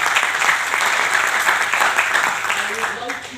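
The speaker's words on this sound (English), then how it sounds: "And applaud for the team." A conference hall audience claps steadily throughout, a dense, even wash of applause that eases slightly toward the end.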